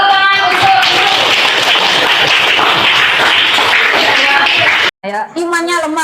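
A classroom of students bursts into loud, dense applause lasting several seconds, close and continuous, before it cuts off and a teacher's voice takes over.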